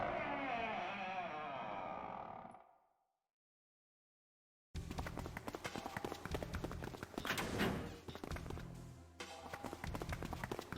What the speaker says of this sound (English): Junpei and Seven exploded into the hallway, their feet pounding the metal floor as they ran.